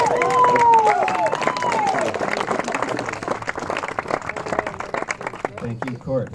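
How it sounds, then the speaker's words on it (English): Wedding guests clap and cheer in a warm, continuous burst that tapers off, with voices and a few whoops mixed into the crowd noise. "Again, you can clap."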